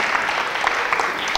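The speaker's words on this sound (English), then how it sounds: "Give her a round of applause." Brief, steady applause breaks out for the winner of a game in a Cree language class, a short, even patter of many clapping hands.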